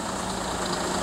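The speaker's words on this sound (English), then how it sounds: "Alright guys, the concrete truck is here." A concrete truck idles with a steady, dense engine rumble. The brief sound is continuous and fairly close, with no voices over it.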